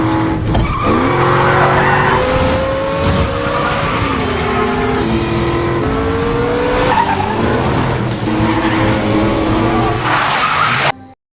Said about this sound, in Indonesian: Tiba-tiba Jimmy bertemu dengan killer dan aksi kejar-kejaran pun dimulai. Namun aksi itu terhenti saat ban mobil killer pecah.